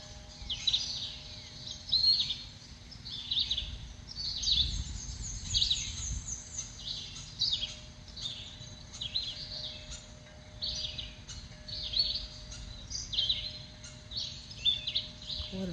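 Small birds chirp in quick, scattered calls around a backyard bird feeder, including a finch, with steady faint outdoor background and occasional quiet human voices.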